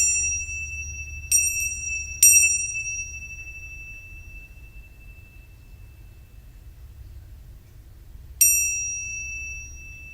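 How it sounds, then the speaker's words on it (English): A small bell rung during a tarot reading gives four bright metallic dings, three close together early on and one more later, each ringing out and fading slowly over a faint low hum. "The bell resets my energy."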